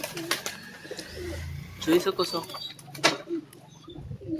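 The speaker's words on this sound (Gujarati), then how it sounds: "કેમ મસ્ત છે કબૂતર." Pigeons coo close by while pecking at peanuts, giving several soft, low, throaty coos with some rustling, under someone talking.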